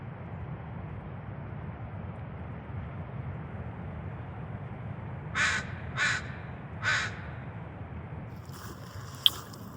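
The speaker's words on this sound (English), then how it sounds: "I feel like that crow's alerting the other animals." A crow on the Olympic Coast of Washington at low tide gives three loud, separate caws close together, heard over a steady wash of surf and wind, with a faint higher rustle near the end.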